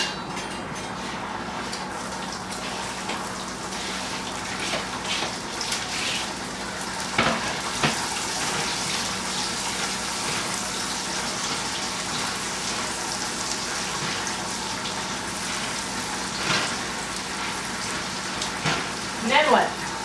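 Onions sizzling with bacon in a hot pan, a steady dense crackle running throughout with a few louder pops and stirring sounds near the end.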